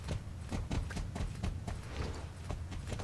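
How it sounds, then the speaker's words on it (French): Horse hooves clip-clop in the online horse-riding game Star Stable Online, a steady run of quick, evenly spaced thuds at moderate level with no speech over them. "écoute les bruits que le cheval il fait"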